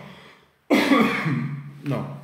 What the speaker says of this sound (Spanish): No más chiste porque viene la tos.